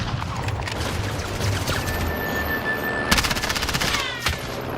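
Call of Duty Warzone battle gunfire: continuous rapid automatic fire rattles over a rumbling vehicle-like background, dense and loud throughout, with a sharper burst of shots near the end.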